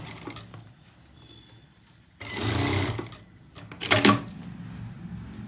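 A sewing machine runs loose basting stitches along the neckline of an embroidered suit, heard as two short, whirring runs of stitching separated by quieter handling noise.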